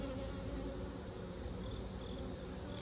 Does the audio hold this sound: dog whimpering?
no